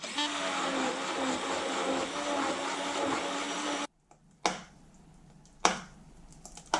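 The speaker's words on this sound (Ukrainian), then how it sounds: "Горох також проб'ю блендером." An immersion blender pureeing peas gives a steady, loud motorized whir for about four seconds, then cuts off abruptly, followed by quieter clattering and a couple of sharp knocks.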